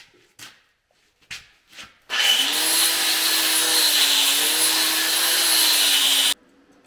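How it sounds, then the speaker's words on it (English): An angle grinder working weld metal on a Toyota Sequoia, starting after a few short knocks and running loud and steady for about four seconds with a droning whine before cutting off abruptly. "This is where we grind off anything we don't like"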